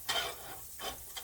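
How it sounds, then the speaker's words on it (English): Butter and oil sizzle in a hot pan for stir-fried rice, a close, crackling hiss that swells in short bursts with brief quieter gaps, heard alone. "It's already nice and hot, sizzling. It's got a nice sizzle on it."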